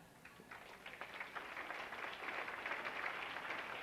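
Audience at a high school athletics, activities and fine arts banquet applauding the coaches, a soft, distant patter of many hands that swells slightly and holds steady throughout.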